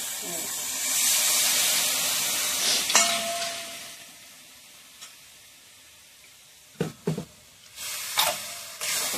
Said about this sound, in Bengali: দিয়ে দেবো জল, ওই যে এই বাটিতে আরো